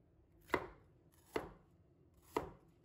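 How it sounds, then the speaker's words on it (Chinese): Knife chopping bitter melon into pieces about 3 cm wide on a board, three sharp, evenly spaced chops, close and clear with no talk. "把它切成3公分的宽度就可以了，不要切得太小块"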